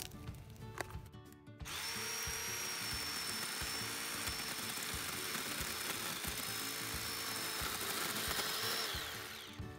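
A battery-powered chainsaw whines steadily through a small tree for several seconds after a brief start, a continuous buzzing cut close by that fades slightly at the end.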